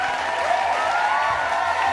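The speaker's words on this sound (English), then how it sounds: "Keep those hands clapping for Esther and Silvio." Wedding guests clap during the couple introductions at a reception, a continuous spread of applause blended with music and ambient room noise.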